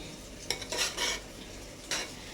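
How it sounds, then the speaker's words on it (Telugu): A spoon scrapes and stirs bagara rice mixed with an oil tempering in a pot, making several separate scraping strokes over a faint sizzle. "ఇలా మంచిగా కలిపేసుకోవాలి."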